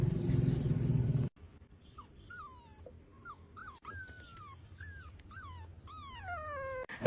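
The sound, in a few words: small puppies play-fighting and whimpering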